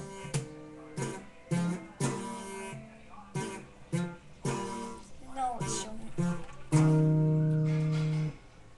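Guitar power chords play a well-known riff: a series of short, punchy chord stabs in the song's rhythm, ending on one long sustained chord, played close and fairly quiet with no talking.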